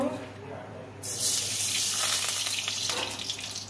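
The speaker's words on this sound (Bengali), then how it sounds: "আমি আলু আর ওল ভেজে নেব।" Potato and elephant foot yam drop into hot mustard oil and burst into a loud, bright sizzle that holds steady after a quieter lead-in, close by and heard alone.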